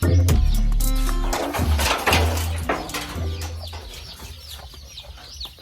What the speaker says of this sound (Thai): เดี๋ยวไปไล่ไก่เข้ามาข้างในก่อน